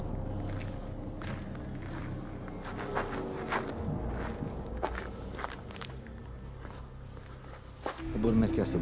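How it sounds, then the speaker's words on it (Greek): Footsteps crunch in an abandoned military camp, a faint, uneven series of steps over a low rumbling background, with a louder disturbance near the end. "Σαν βηματισμό να άκουσα."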